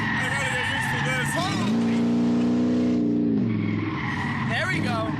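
A car driven hard around a track in sport mode, engine revving loud and sustained with a strained, rising and falling note, tires squealing as it slides through turns, close up with a voice talking over it.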